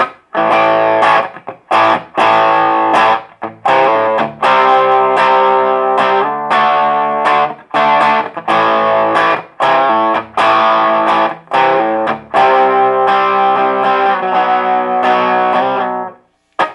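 Electric guitar played through a Fender Hot Rod Deluxe III tube amp with the presence raised, with distorted, brightly driven chords struck in short bursts separated by brief pauses, loud and close.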